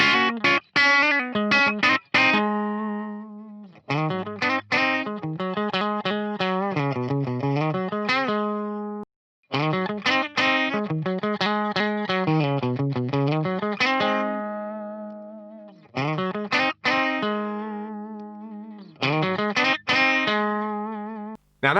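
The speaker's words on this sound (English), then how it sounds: "let's hear parallel mode versus one of the single coil modes on the bridge pickup" Electric guitar bridge pickup switching between parallel and single coil modes with the volume rolled down, strummed chords and phrases through distortion, ringing out in separate bursts with short gaps between.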